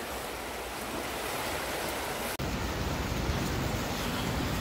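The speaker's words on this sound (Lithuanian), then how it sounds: "Čia toks neblogas kalnų upelis, turbūt vakar, kai stipriai lijo" A mountain stream swollen by heavy rain, several streams joining into one strong current, rushes in a steady, loud broadband roar with no pause except one brief dropout midway.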